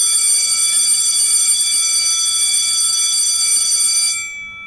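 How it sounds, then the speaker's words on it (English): A long electronic bell rings as a sustained bright tone for about four seconds, then cuts off abruptly, leaving a quieter fading tail. "That was a really long bell."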